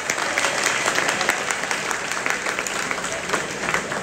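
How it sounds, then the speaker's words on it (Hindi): School students in a classroom or hall clap loudly for themselves, a thick continuous rattle of many hands with a faint rhythmic pulse, close and bright, no talking over it. "अपने लिए जोरदार ताली बजाएं सभी"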